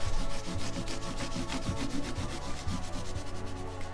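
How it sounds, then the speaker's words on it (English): Hand buffing across the top of an archtop guitar with firm pressure, a steady rhythmic rubbing that repeats in quick back-and-forth strokes, close and fairly loud with no voices. "I'm using quite a bit of pressure, just really buffing off the excess."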